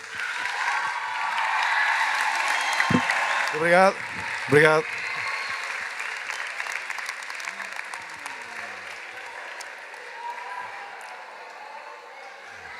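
An audience at the Palácio de Belém, during the Músicos no Palácio de Belém event, applauds a singer with sustained clapping, while a voice briefly offers thanks over it before the applause gradually thins.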